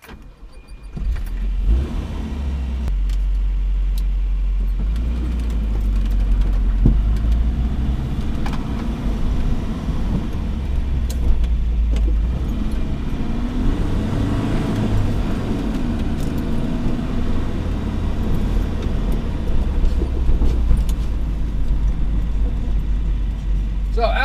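A Volvo 240 with a MagnaFlow catalytic converter exhaust drives along, its engine giving a steady low rumble with mild swells in revs over about 24 seconds of continuous road noise.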